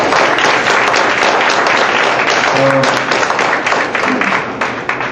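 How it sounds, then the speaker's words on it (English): Meeting audience applauding together, a dense, steady wash of clapping from many hands that holds evenly and thins slightly toward the end, with a brief murmur of voices mixed in. "So I think you can give yourselves a round of applause."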